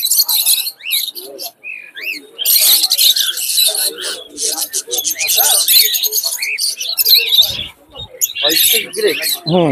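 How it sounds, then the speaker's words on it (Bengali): Cockatiels, a running pair of white-face grey and fawn birds, chirp and squawk loudly at a busy pigeon market, with rapid rising whistles and tweets tumbling over one another. "এগুলো হলো ককাটেল পাখি, রানিং পেয়ার"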